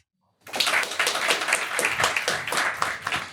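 Sudden audience clapping starts after a moment of silence and carries on steadily, a dense patter of many hands, fairly close.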